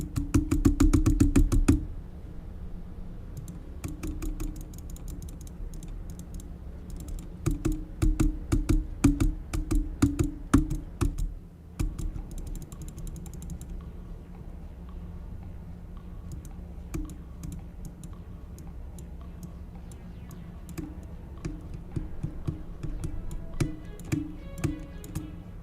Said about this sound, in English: Mouse clicking is so loud even for me.